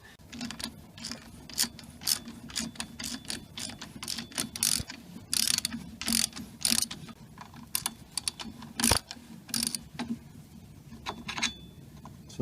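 On a Toyota Aygo, a hand ratchet loosens a brake caliper bracket bolt, giving rapid clicking pawl ticks in uneven bursts with short pauses and a single sharper clunk near the end.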